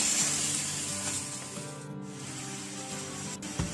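Chicken sautéing in a karahi pan for black pepper chicken, a steady close sizzle and hiss of frying with light stirring scrapes, running continuously on its own.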